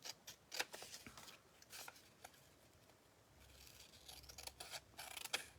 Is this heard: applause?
no